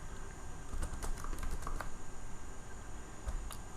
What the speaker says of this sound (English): if I type anything